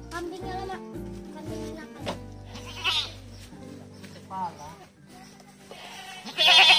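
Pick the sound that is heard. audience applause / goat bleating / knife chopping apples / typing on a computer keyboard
goat bleating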